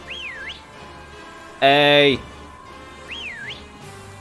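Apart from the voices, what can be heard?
player whistling in Pokémon Sword & Shield video game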